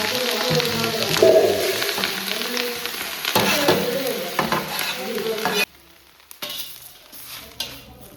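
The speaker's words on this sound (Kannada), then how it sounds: "ಈ ಥರ ಸ್ವಲ್ಪ ಲೈಟಾಗಿ ಎಣ್ಣೆ ಹಾಕ್ಕೊಂಡು ಕರಿಬೇವು ಹಾಕ್ಕೊಂಡು" Curry leaves fry in a little oil while being stirred, a steady close sizzle with scraping strokes that cuts off sharply partway through, leaving only faint quiet rustle afterward.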